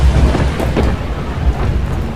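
Steady rain pours down with rolling thunder rumbling through it, a dense, continuous wash of falling water and low booms, loud and close with no voices.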